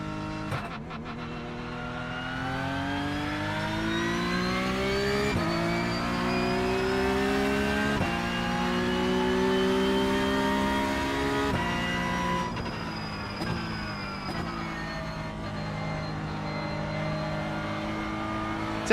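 Porsche Cup race car engine in a racing video game, revving up repeatedly through the gears with rising whine and short dips at each shift, loud and continuous with no talk.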